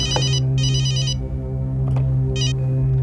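A telephone bell rings in loud repeated bursts, three distinct trills with pauses between, over a steady low hum indoors.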